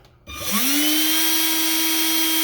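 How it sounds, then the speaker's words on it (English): An ER11 collet spindle fitted with a 3D-printed fan spins up from a brief quiet start, its whine rising quickly into a steady, loud, close hum that holds to the end. "as soon as we start the spindle going"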